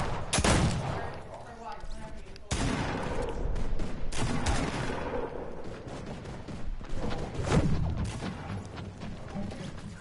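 Rapid bursts of turret fire in a Fortnite-style squads video game, dense and continuous across the clip with heavy low-end thumps, mixed with talk from players.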